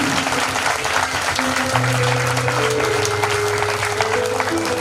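Crowd applauding at a 2017 birthday celebration for Sai Vicky Shah Ji: dense, continuous clapping from many hands that holds steady throughout, with a low sustained tone running underneath.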